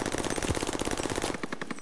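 Rapid automatic gunfire in a Call of Duty style Search and Destroy match, a fast burst of evenly spaced shots for over a second, then a few sharper, more distant cracks.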